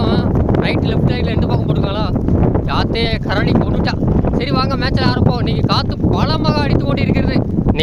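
Strong wind buffets the microphone in an open area where goats are being herded, roaring steadily the whole time beneath someone speaking Tamil.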